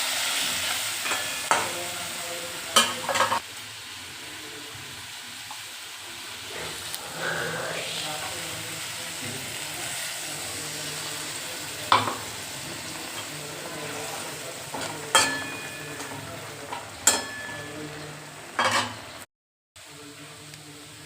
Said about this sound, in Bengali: ভেজে নেওয়া যাওয়ার পর এর মধ্যে সরষে ও কাঁচা লঙ্কা পেস্ট করে দিয়ে দিয়েছি।